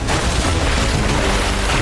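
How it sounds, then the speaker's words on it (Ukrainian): A loud, dense rumbling blast of an explosion fills the whole clip, with broad crackling noise and heavy low-end boom throughout. "Оце був вибух"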